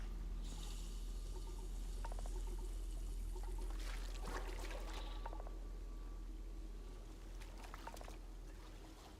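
Splashing and trickling water as a character wades through water in Starfield: Shattered Space, a steady faint liquid wash with a few brighter splashes, no talk.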